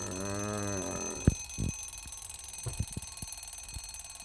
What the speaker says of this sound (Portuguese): de repente o despertador toca